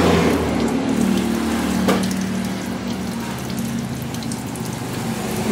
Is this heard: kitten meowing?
no